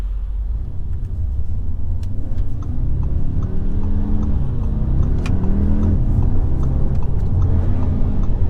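A 300 bhp 2019 Audi SQ2 sports SUV pulls away hard on launch control, its engine a steady loud rumbling roar that climbs through the revs with a shift partway through, heard from inside with no talking.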